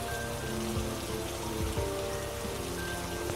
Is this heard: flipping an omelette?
no